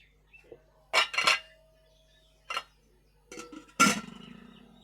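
Dishes and utensils clink sharply while milk is transferred into a vessel during sandesh making: a few close, sparse metallic knocks and chinks separated by quiet gaps.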